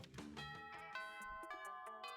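A bright doorbell chime from the video game Monster Prom rings out as a short run of clear, ringing musical tones that layer and sustain, with no voices over it.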